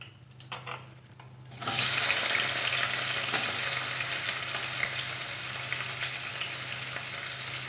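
Onions dropped into hot oil with whole spices and cashews for mushroom biryani: after a few quiet clinks, a sudden loud, continuous sizzle rushes up and holds steady, close and dense.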